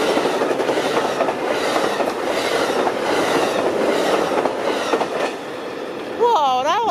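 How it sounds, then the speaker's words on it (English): A fast Starlight passenger train rushes past close by at Camarillo at about 80 to 100 miles an hour, a loud continuous roar with rhythmic clattering of wheels, ending in a high squealing whine. "trains coming in real fast. Oh wow, that's fast"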